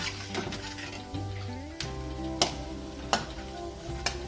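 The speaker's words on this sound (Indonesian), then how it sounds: "Nah ini kita goreng-goreng lagi, kita balik-balikin lagi ya, biar matangnya rata." Mackerel fish cakes (pempek) fry in hot oil in a pan and are turned over, giving a steady close sizzle punctuated by several sharp clinks and scrapes of the utensil against the pan.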